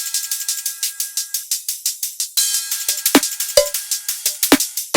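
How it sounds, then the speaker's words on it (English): Busy drum and bass percussion layer with rapid shaker ticks in a steady driving pattern, joined by sharper little percussion shots and hits, close and unaccompanied. "we have the entire percussion group, which is a lot. Sounds like this"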